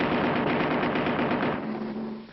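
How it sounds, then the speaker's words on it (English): A cartoon turret gun on a hot rod fires a steady, loud burst of rapid automatic shots for about two seconds, close and continuous, trailing off slightly at the end. "Hey, Willie, get ready with that turret gun."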